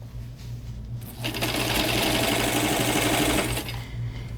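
A sewing machine runs steadily and close by, its motor humming under a fast, even stitching rattle that swells for a few seconds and then eases off.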